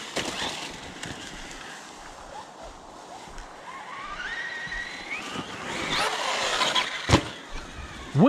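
A Redcat Kaiju EXT RC monster truck drives with a steady electric motor whine that rises and falls, then brakes hard with a sharp transient near the end, heard close under outdoor background noise.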